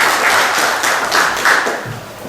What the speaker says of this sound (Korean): 다시 한번 박수 한번 드립니다.